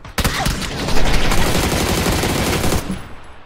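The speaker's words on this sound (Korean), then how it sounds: "저 총소리는 뭐지?" Rapid automatic gunfire from a video game rattles loudly and continuously for about three seconds, bursts of shots packed densely together before cutting off abruptly.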